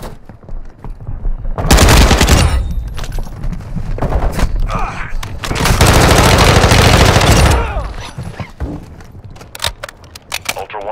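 Loud automatic gunfire in DMZ Warzone on PS5, set in Vondel: sharp scattered shots build into two long sustained bursts of fire, with a radio-style voice speaking briefly in between.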